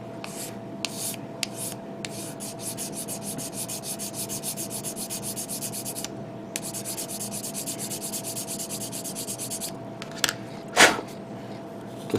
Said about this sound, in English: I'm going to use the rough one, which is the 400, and then I'm going to sand it down